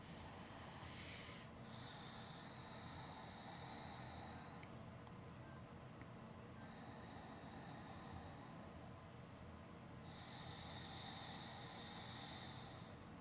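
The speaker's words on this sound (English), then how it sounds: "Let's take a few more ujjayi breaths." Slow, steady ujjayi breaths during a power yoga session, each long airy inhale or exhale drawn through a constricted throat and rising and fading over several seconds, heard alone against a constant hiss.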